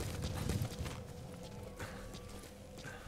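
Horse hooves in the video game Metal Gear Solid V: soft, rhythmic clip-clop steps on the ground, fairly quiet and close, fading over a few seconds with light ambient game sounds and no talk.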